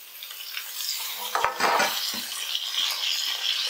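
Red, yellow and green capsicums stir-fried in a pan for fried rice: a steady close sizzle, with a burst of scraping stirs and clatter near the middle.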